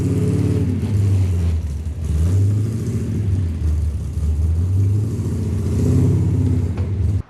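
A 1979 big block Camaro engine idles and revs with a deep, steady rumble while backing up in a garage, loud and close, swelling in pitch twice before cutting off abruptly at the end.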